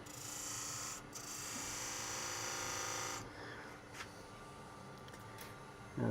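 A turning tool scrapes steadily across the spinning face of a cherry wood box on a lathe, a continuous raspy hiss that breaks off and resumes before fading to quieter cutting.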